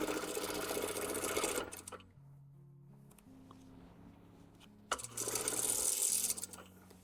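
A sewing machine stitches a fabric seam in two steady whirring runs of about two seconds each, close and clear, with a quiet pause of soft tones between them.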